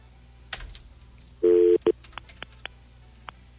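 A telephone line answers a dialed number with a short, loud steady tone, then a brief second beep, followed by a series of sharp, evenly spaced electronic pips. No voices are heard.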